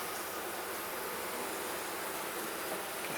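Unsmoked honey bees humming steadily around an open hive during an inspection, a constant dense buzz with no talk.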